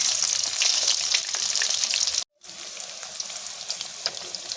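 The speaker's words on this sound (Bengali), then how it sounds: "শোল মাছ একটু বেশি করে ভাজা লাগে, যেহেতু মাছটা নরম মাছ" Oil sizzles and crackles steadily as snakehead fish fries in a pan, loud and close, with a brief moment of silence partway through.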